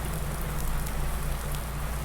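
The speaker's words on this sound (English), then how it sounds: "I always find that the rain in farming simulator is quite loud." Steady, dense rain hiss from Farming Simulator weather, loud and unbroken throughout with no other sounds over it.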